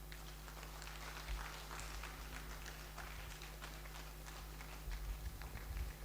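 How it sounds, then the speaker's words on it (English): An audience at a university inaugural lecture claps steadily in a hall, a continuous dense patter of applause with slight swells, heard from a distance. "The clap can be louder, please."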